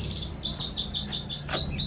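A tiny bird chirps in a quick run of about eight bright, evenly spaced tweets, close and clear with no voices over it.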